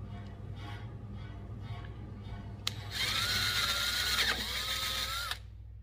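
A drill bores through aluminium and an air pistol barrel, first a quieter whirring with soft scraping, then a louder, higher-pitched cutting whine for a few seconds before it stops, over a low motor hum.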